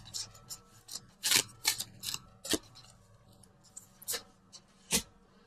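Tarot cards from a Universal Love deck being shuffled and drawn during a love reading: a string of sharp, papery snaps and flicks, close and fairly loud, with quiet rustling between them and no talking.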